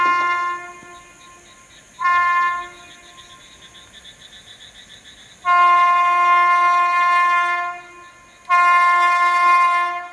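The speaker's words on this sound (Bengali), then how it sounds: "হুইসেল দিচ্ছে।" An express train on the Jalpaiguri–Sealdah route sounds its horn in three long, loud tonal blasts, with quieter rumbling between them.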